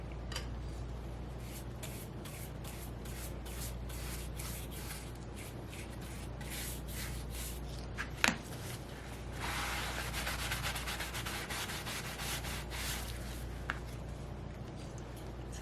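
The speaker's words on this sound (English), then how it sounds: "make sure you got your rag handy and you're wiping that off right away" A rag wipes wood stain off a board for a colored washed wood finish, giving a steady close scrubbing and rubbing sound with brief scratchy strokes and one sharp knock midway, no talking.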